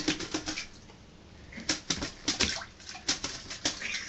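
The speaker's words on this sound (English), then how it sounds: "I lift up the lid and there's a goddamn bird in my frickin' toilet." A wet bird trapped inside a toilet flaps its wings in bursts of splashy, fluttering beats, close by and growing more frantic as it goes on.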